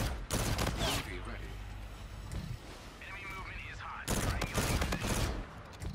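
R3K gunfire in the shooter game Infinite Warfare cracks out in two loud rapid bursts, one early and one late, with quieter game sounds in between.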